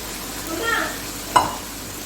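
Beef karahi sizzling in oil as it is stirred in a pan, with a steady frying hiss, a gentle swell of stirring and one sharp scrape of the utensil against the pan.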